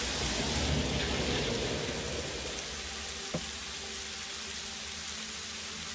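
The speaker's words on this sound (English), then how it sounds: "Oh, I hear rain." Rain falls in the video game Satisfactory as a steady, dense hiss that eases partway through and settles into a softer patter, with one small click and no talk.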